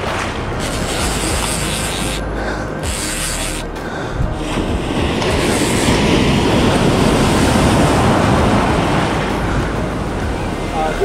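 Surf waves breaking in the surf zone of a reef shore while fly fishing for giant trevally, a loud, continuous wash of crashing water, with gusty wind buffeting the microphone.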